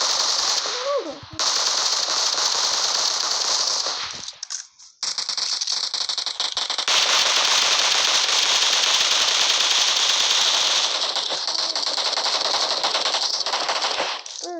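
Sustained automatic gunfire from the battle royale game PUBG rattles loudly almost without pause, in long bursts broken by a brief gap; faint speech sits beneath it.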